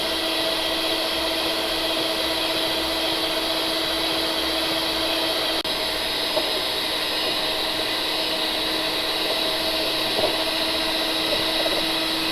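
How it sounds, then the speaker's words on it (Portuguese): An electric stand mixer whirs continuously at a steady pitch while beating cake batter as milk, oil and vanilla are added gradually, a constant close motor hum with no talking. "Isso vai entrar com a batedeira ligada ainda aos poucos"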